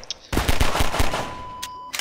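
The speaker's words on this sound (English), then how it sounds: "Oh, I like dodging all your bullets" Close, loud automatic gunfire in Half-Life 2, a rapid burst of roughly half a dozen shots with bullet impacts, followed by a couple of sharper single shots, no talking.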